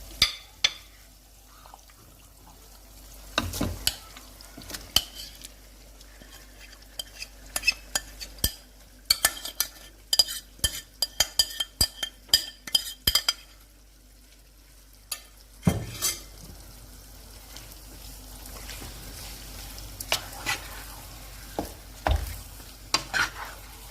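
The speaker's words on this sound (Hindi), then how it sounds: "अभी हम इसमें चिकन डाल देते हैं।" Chicken pieces are added to softened, mashed tomatoes for murgh cholay and fried in a pan. Close spoon scrapes and clinks run over a low sizzle, and the frying grows steadier and louder partway through.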